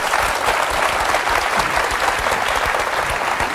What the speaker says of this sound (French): Alors, applaudissements pour notre amie Agathe.